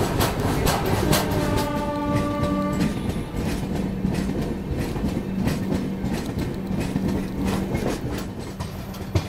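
A passenger train rolls along the rails close by with a steady, loud rumble and rhythmic clatter, and a few sustained tones sound in the first seconds.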